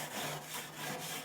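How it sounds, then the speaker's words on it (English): A hair-style scraper rubs across a heated gas grill grate outdoors, giving a short run of rhythmic, raspy scraping strokes, moderately close and fairly quiet, with no voices. "I got me one of these hair scraper thingies."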